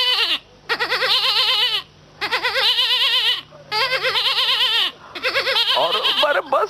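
A goat bleats loudly and close by, in four long wavering cries separated by short pauses, with no talking over them.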